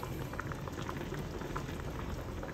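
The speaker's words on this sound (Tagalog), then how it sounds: "magpapakulo po muna ako ng buto-buto na maraming taba hanggang sa medyo maging crispy" Steady bubbling and popping of fatty pork ribs boiling in a pot, close up, with a constant crackling texture and no voices.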